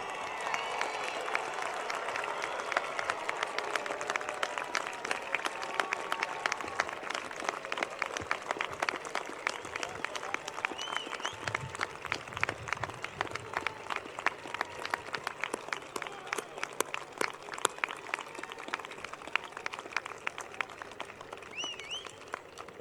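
At a commencement ceremony, graduates give their families a long, even round of applause, a broad crowd of many hands clapping steadily at moderate distance.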